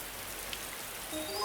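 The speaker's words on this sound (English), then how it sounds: "It's raining." Rain falling steadily, an even broadband hiss of drops with no talk, holding constant for a short stretch.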